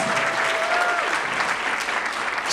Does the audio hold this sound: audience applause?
yes